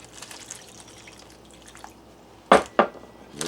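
Tap water at 75.7 degrees poured into a bag of freeze-dried steak: faint soft trickling, then two short, sharp splashy bursts close by, alone without talk.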